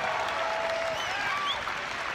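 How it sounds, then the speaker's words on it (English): Crowd clapping at an outdoor political rally, a soft, fairly distant patter of applause mixed with cheering and whistle-like voices. "People are really enthusiastic, they're clapping."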